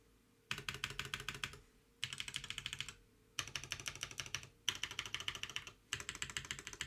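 Bursts of rapid, clacky key presses on an Envoy mechanical keyboard with Zaku II switches, about five typing runs separated by short pauses, crisp and close.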